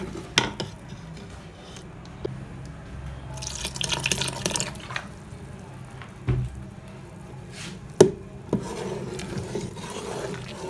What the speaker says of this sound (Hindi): इसमें अभी हम थोड़ा सा पानी शामिल करेंगे।